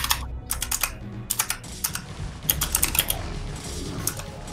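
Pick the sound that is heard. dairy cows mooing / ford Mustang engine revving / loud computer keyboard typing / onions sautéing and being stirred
loud computer keyboard typing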